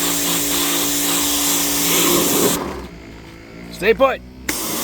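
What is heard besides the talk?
compressed air blowing stripped paint off Honda ATC70 fender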